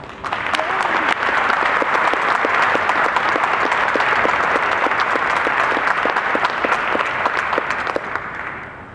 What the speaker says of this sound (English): if you would join me in giving those men and women a round of applause